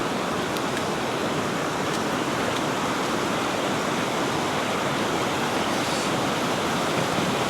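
The River Valency at Boscastle rushes by close and loud, a steady broadband roar of flowing water spilling over onto a path, with no voices.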